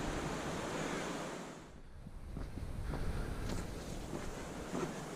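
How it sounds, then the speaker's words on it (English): Rapids on Silver Creek in Jay Cooke State Park, Minnesota, a steady broadband rush of flowing water, fairly faint and continuous, with some wind noise. "There's some nice rapids."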